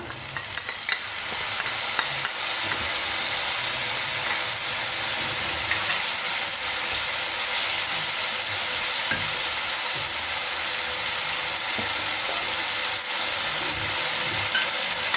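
Ground spices fry in oil with a splash of water for rui fish tel jhal. A loud, continuous close sizzle runs throughout with faint stirring scrapes.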